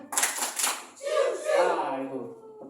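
A class of children does the rhythmic Spiderman clap in a classroom, a few quick bursts of hand claps followed by voices talking and cheering.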